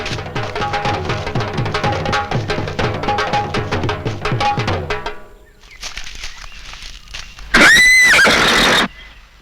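Horses neighing loudly in a period setting of a medieval Delhi sultan's court: a long, shrill whinny with a falling, wavering pitch near the end, after earlier harmonic music and a stretch of quieter ambience.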